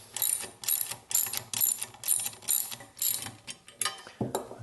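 A ratchet wrench clicks in quick repeated bursts while loosening the lock nuts on the blade mount of a Jiffy ice auger ripper, close and crisp with no talking.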